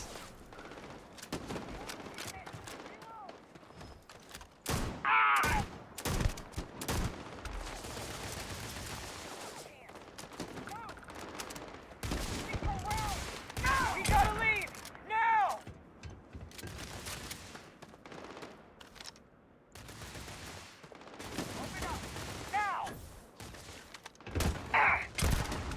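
Rapid gunfire from a fast-shooting weapon in the space game Starfield crackles in scattered bursts at moderate loudness, mixed with mechanical clicks and other game effects and occasional talk.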